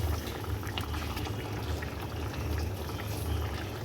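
A Bengali fish curry broth, ready for tilapia pieces, bubbles at a steady, continuous boil in a pot, heard close up with no talk.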